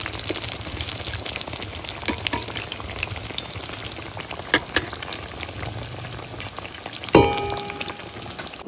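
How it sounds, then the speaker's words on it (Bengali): Green banana kofta balls fry in hot oil with a steady close crackle and sizzle, scattered light clinks and bubbling, and a brief sharper burst near the end. "বড়াগুলো লাল লাল করে ভেজে নিছি"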